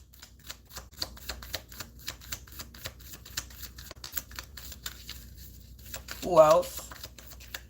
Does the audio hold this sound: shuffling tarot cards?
yes